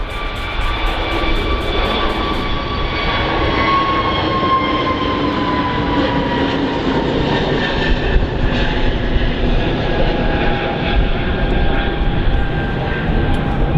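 An airliner rotating on takeoff at Manchester Airport gives a loud, sustained jet engine roar with steady whining tones, heard at close to moderate range throughout with no pause.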